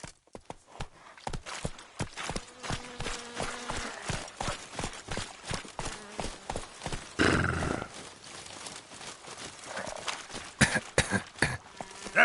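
Roach, a horse in Witcher 3: Wild Hunt, gallops with rapid, evenly spaced hoofbeats thudding close and loud, broken by a brief burst of heavier rustling and snorting noise midway before the pounding rhythm resumes.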